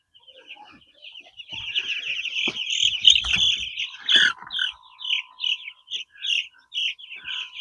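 Young brooder chicks about two and a half weeks old chirp in a rapid series of high, bright peeps while being moved, growing louder and more regular toward the end, with some handling rustle mixed in.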